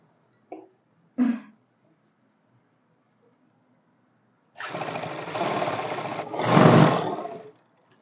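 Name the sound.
sewing machine stitching trousers near the buckram strip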